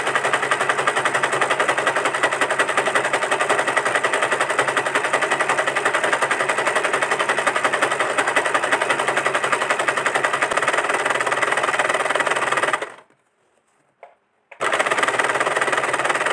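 Sewing machine zigzag stitching folded cloth, a loud, steady rapid clatter that runs continuously, stops briefly near the end, then starts again.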